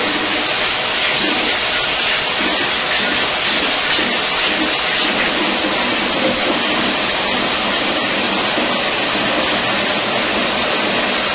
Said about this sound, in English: I'm adding some more water to it